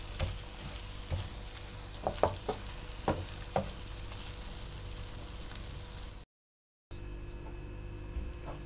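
Spicy potato and okra curry with green coriander being stirred in a frying pan: a steady sizzle runs throughout, with repeated scraping knocks of the spoon, some louder clusters, and a brief dropout of sound near the end.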